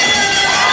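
A boxing arena crowd roaring at the bell, a loud dense burst of cheering and shouting that fills the short moment without a break.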